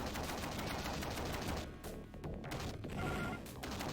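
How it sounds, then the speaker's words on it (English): Rapid gunfire from the Demolition Man video game, a loud continuous rattle of shots that dips briefly midway before resuming at full intensity throughout. "This is exactly how Stallone would run through gunfire as well."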